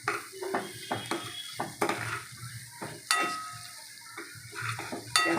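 A spoon scrapes and knocks in a pan as coconut and turmeric are stirred into sizzling poha with onion, a series of close clinking strokes over a steady frying hiss, with no talking.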